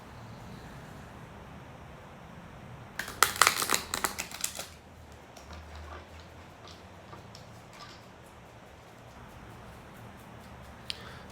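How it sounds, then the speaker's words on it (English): A brief flurry of crisp, close tarot card riffling rises sharply for a couple of seconds, then gives way to softer, scattered handling over quiet background noise. "So let's shuffle the cards and see what's up."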